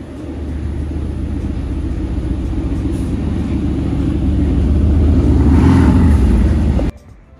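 Loud, close hypercar engine during Monterey Car Week on the street near Cannery Row, a sustained deep rumble that swells toward the end before cutting off abruptly.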